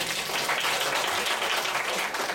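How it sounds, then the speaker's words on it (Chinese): An audience at a street science-popularization event breaks into steady, dense applause that stays even and fairly loud throughout, with no voices on top. "要掌声鼓励一下。"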